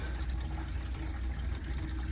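Water drains through a dishwasher drain hose under a sink, a continuous low gurgling rush that stays steady and fairly quiet throughout.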